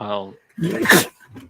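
A short, sharp sneeze bursts out right after a person begins speaking, followed by a brief quiet murmur.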